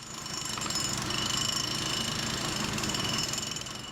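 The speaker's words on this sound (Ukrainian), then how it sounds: "Електромонтер Олександр Гавриленко за допомогою відбійного молотка забиває в землю арматуру." Jackhammer driving steel grounding rebar into the ground beside a utility pole, a loud continuous rapid pounding rattle with steady engine-like drone, close and unbroken for several seconds without speech.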